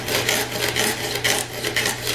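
A big kitchen knife saws through a dense topiary form in quick repeated strokes, a close rasping scrape that rises and falls about twice per second.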